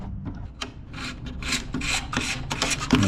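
Wire rasping and rubbing as it is drawn through a small drilled hole while fitting a tailgate license plate mount on a Bronco, a close series of scratchy pulls of varying length.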